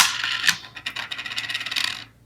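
Dice for the Hellboy board game tumble and rattle across a hard surface, a quick burst of clicking impacts settling into a short run of light clatters, close and fairly quiet, with no talking.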